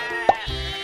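A single short sheep bleat, sharp and close, over a faint background hum.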